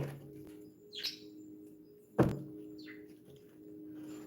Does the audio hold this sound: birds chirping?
yes